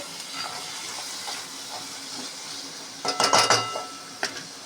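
Cooked knol-khol pieces tipped into a pan of softened tomatoes for a kuruma: a soft, steady sizzle, then a brief cluster of clinking and scraping from pan and utensil, close and fairly quiet.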